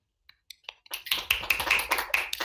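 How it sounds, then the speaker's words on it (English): Delegates at a Model UN General Assembly session clap after a resolution passes, starting with a few scattered taps and quickly swelling into dense, steady applause. "Clapping is in order."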